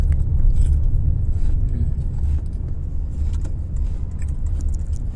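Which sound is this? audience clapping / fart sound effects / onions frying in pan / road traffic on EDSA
road traffic on EDSA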